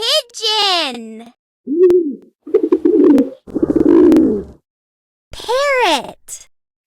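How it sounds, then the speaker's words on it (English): Pigeon cooing, a series of soft, throaty coos and hoots heard up close and fairly loud, broken by short pauses, with a higher voice-like call at the start and end. "Pigeon."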